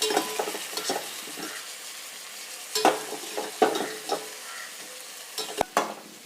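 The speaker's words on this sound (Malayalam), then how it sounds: "പൊട്ടറ്റോ നമ്മൾ ഗ്രേവിയിലോട്ട് ചേർത്ത് ഇനി നന്നായിട്ട് ഒന്ന് മിക്സ് ചെയ്ത് കൊടുക്കണം" Boiled potatoes being stirred into a masala gravy in a pan, with steady soft sizzling under repeated scraping stirs and light clicks of the spoon on the pan, close and alone without speech.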